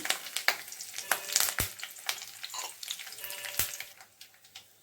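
Curry leaves, garlic and green chilies frying in hot oil for a sambar, crackling and sizzling close up, with sharp pops and spits in an uneven rhythm, with no speech.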